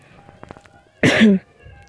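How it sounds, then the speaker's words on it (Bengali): A person with a cold gives a single short, loud cough burst, close up, after a stretch of faint background noise. "কাশিও ধরছে, ঠান্ডা লাগছে।"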